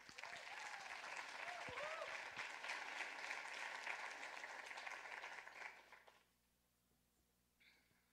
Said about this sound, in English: Let's clap for Haley.